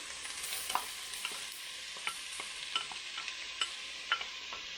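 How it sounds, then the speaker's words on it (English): Carrots, celery and onions sauté in oil in a pan for cream of chicken soup, giving a steady soft sizzle broken by light scraping stir strokes. "saute these until the vegetables, the onions are soft and kind of translucent."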